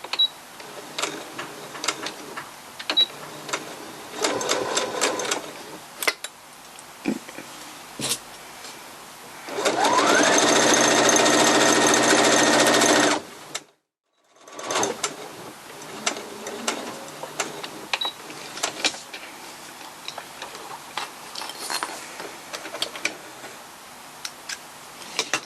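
A sewing machine stitches oven mitt pieces in a chain, with quick bursts of ticking stitches, then a long loud steady run, a brief stop, and more short stitching bursts with pauses between them.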